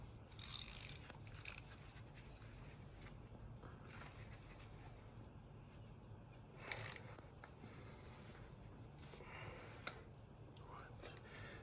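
A ratchet tightens a transmission cooler outlet hose fitting on a 2003-2008 Toyota Corolla, Matrix or Pontiac Vibe, giving a run of soft ratcheting clicks in bursts over a steady low hum.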